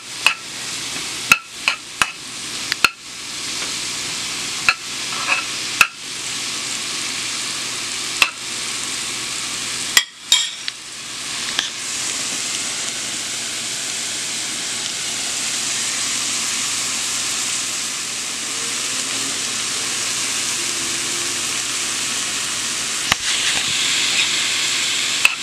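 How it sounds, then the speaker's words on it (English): Mushrooms fry in hot oil in a pan with a loud steady sizzle, punctuated early on by sharp knocks and scrapes of a utensil stirring, then settling into continuous hissing. "I'm going to add the mushrooms. Stir it"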